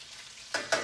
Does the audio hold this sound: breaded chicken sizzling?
yes